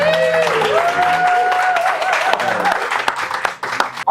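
An audience applauds at a gaming competition. The crowd claps loudly and steadily while sustained tonal music plays beneath it, and the clapping tapers off near the end.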